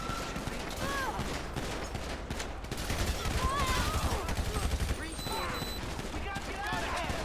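Bursts of gunfire ring out in a GTA 5 police shootout, rapid overlapping shots and volleys crackling continuously amid ambient noise, with a stronger flurry partway through and faint voices mixed in.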